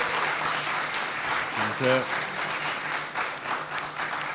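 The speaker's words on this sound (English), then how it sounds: "So please, another round of applause for this group here at ASU." Audience applause at a Model African Union assembly session at ASU, a sustained even wash of clapping from a seated crowd, with a brief spoken word partway through.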